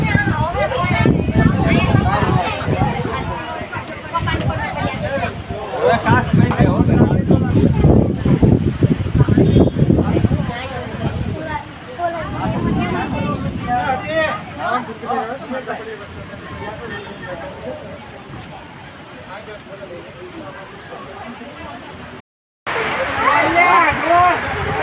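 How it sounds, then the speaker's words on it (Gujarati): Heavy rain and strong wind make a dense, continuous roar heard from under a tin-sheet canopy during a visit to Tulsi Shyam. Gusts buffet throughout, and people talk over the downpour. "અત્યારે ફૂલ વરસાદ આવી રહ્યો છે"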